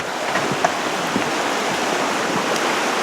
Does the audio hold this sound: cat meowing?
no